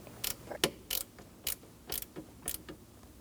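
Short metallic clicks and ratcheting from a 10mm wrench tightening the nut on a battery terminal of a 2009-2017 Audi Q5, arriving in about six close, separate bursts with brief pauses between them.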